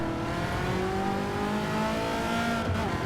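A Ford GT's engine in Gran Turismo 7 hums steadily at high revs, with shifting throttle tones under a constant roar as the car is driven hard around a race track.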